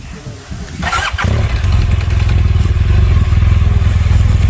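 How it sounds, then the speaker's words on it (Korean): A motorcycle engine cranks briefly with a clatter, then catches and settles into a loud, close, steady running idle during off-road riding training. "시동 걸고"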